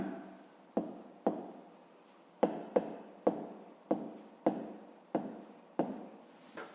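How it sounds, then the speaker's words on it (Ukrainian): A pen writes out a maths solution on paper, about ten distinct bursts of scratchy strokes separated by short pauses, close and quiet, with no talking. "Зараз записуємо розв'язання."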